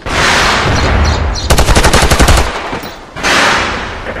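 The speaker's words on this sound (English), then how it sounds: "We are firing now!" Gunfire in SOCOM U.S. Navy SEALs, a loud close burst of rapid automatic shots lasting about a second, surrounded by dense noisy combat ambience and a further blast near the end.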